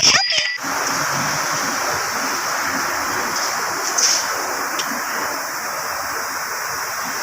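Engine oil drains from a Toyota Vios into an already full, overflowing container, a steady close splashing, trickling pour that runs continuously after a brief clatter at the start.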